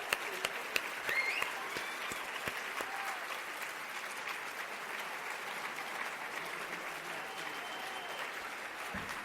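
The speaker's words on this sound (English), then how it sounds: "Give yourselves a big round of applause." A large graduation commencement crowd applauds steadily for several seconds, dense clapping holding an even level throughout, with a few cheers early on.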